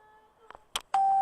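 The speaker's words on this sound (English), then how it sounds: "So yeah, that's the doorbell." A Minecraft furniture mod doorbell made from a note block and button: a couple of quick clicks followed by a bright sustained chime tone, loud and close.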